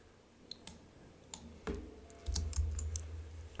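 Computer mouse clicks, sharp isolated taps near the microphone at irregular intervals, some spaced singly and a few in quick succession, with low handling bumps between.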